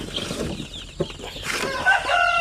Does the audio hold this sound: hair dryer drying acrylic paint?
no